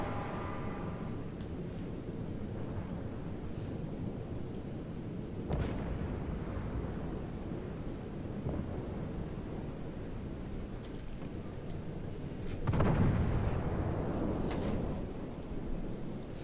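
Warship guns booming in World of Warships at tier 2, a few heavy blasts spaced apart, the loudest near the end, over a steady rumbling naval battle background.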